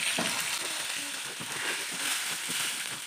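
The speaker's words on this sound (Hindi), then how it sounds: "ये देखें जो हमारे कोफ्ते हैं ये फ्राई हो रहे हैं" Chicken koftas deep frying in hot oil, a dense continuous bubbling sizzle at moderate level with faint crackles throughout, no talking.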